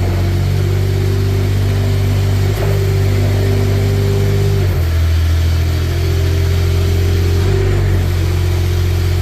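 The Kubota engine of a 2024 Manitou TMM45 4W forklift runs loud and close with a steady low droning hum, its pitch dipping and shifting a few times as the revs change, with no voices.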